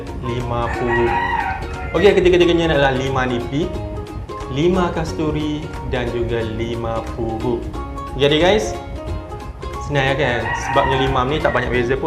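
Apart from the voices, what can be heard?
rooster crowing outside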